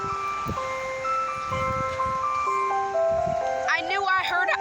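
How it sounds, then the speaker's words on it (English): An ice cream truck plays its tinkling melody, a steady sequence of bright musical notes heard from a moderate distance over street background noise. "I knew I heard an ice cream truck."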